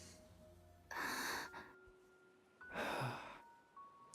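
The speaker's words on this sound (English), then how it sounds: "Ah, yes, enemy breathing." An enemy in a video game breathes heavily, two long, breathy sighs or gasps separated by a quiet pause, close and clear against a low ambient hum.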